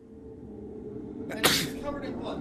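A single sharp sneeze bursts out close by, partway through a person talking, during a Silent Hill 4: The Room gaming session.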